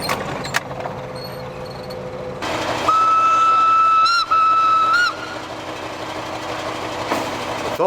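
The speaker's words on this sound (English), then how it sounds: "The Feldbahn is a charismatic locomotive." A World War One German Feldbahn steam locomotive, built for the German war service, runs with a steady chuffing rumble and a sustained shrill steam whistle blast midway, loud and close.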